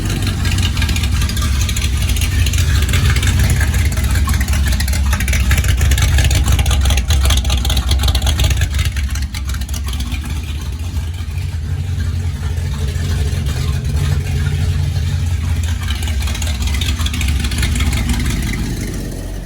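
A loud, rumbling supercharged 1940 Ford hot rod engine idles steadily with its exhaust cutout open, a deep, throaty exhaust note sustained throughout with slight variations in intensity.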